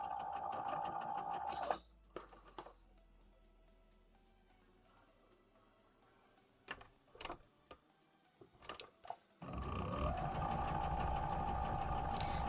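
A sewing machine stitches quilt pieces in steady running bursts at the start and end, with a quieter stretch between holding a few sharp clicks and handling noises.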